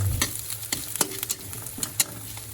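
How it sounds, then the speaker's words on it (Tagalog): Garlic frying in a pan and being stirred, a steady low sizzle broken by a few sharp utensil scrapes and taps against the pan, close and moderately loud. "Haluin lang natin siya ng haluin. So, may bawang guys."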